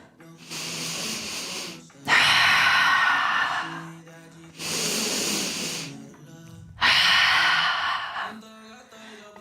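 A yoga practitioner breathing slowly and audibly through a held pose in a power flow class, four long airy breaths alternating inhale and exhale, close and loud.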